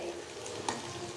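Onions fry and roast in a pan over a gas flame, a soft, steady sizzle with a faint clink partway through, brief and fairly quiet with no talk.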